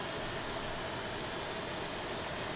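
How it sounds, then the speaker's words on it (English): Airliner jet engines hum steadily during pushback in Microsoft Flight Simulator X, a faint, even, broadband whine and rumble with no breaks. "I love the sound of the engines when you're pushing back"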